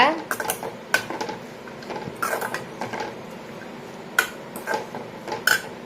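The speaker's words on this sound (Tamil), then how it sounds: "இப்போ எல்லாத்தையும் நல்லா மிக்ஸ் பண்ணி விடுங்க" Spinach poriyal is stirred in a pan, with a metal spoon scraping and clanking against the pan in irregular bursts, fairly close and moderately loud over low kitchen background.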